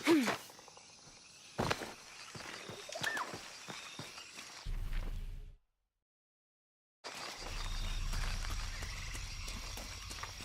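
Frog croaking in the Shadow of the Tomb Raider video game, a few scattered calls set against jungle ambience and game sounds, with a brief silent gap partway through.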